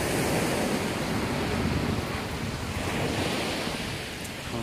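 Surf rolls continuously onto Malaga beach on Christmas Day, a steady wash of waves mixed with wind buffeting the microphone, with no voices.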